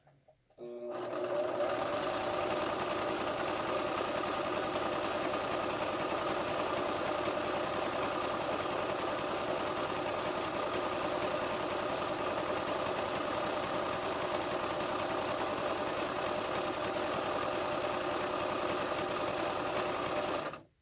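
A sewing machine stitches a cloth face mask, a loud, steady mechanical whir and rapid needle chatter running without pause for about twenty seconds, close up.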